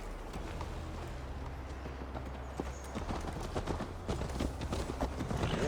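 Horse hooves gallop in Assassin's Creed Valhalla as a fast, even clip-clop runs over a low rumble, growing a little louder toward the end, with no talking.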